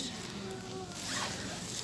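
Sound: zipper on a bag being opened

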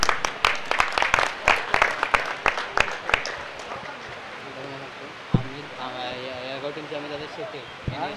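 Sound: loud applause at a prize ceremony

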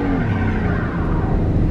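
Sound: Pontiac minivan engine revving and tires spinning in a burnout

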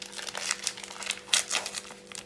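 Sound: crinkling of a flan powder packet being opened

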